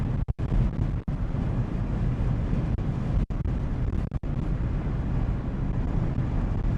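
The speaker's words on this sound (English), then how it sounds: "this wind is whipping" Strong wind buffets the microphone during a Portland snowstorm in 2024, a loud continuous low roar with gusting surges and a few brief dropouts, no voices.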